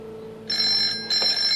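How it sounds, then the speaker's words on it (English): A telephone rings indoors in a 1983 drama: two loud electronic ring bursts, a short gap between them, close and clear over a quiet room. "Paul, phone, STD"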